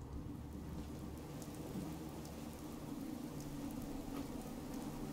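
Steady rain pattering on surfaces during a thunderstorm in the video game Fallout 4, with a deep thunder rumble running underneath at an even, moderate level and no voices.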